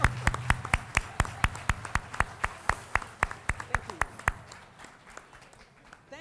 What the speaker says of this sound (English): I want you to give our mistress of ceremonies a round of applause.